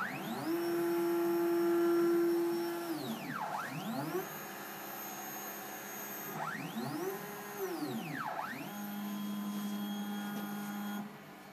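A Dream 3D Builder Extreme 3D printer moves its head to a bed levelling point, stepper motors whining in rising and falling sweeps that ramp up and down several times, loud and close with no talk.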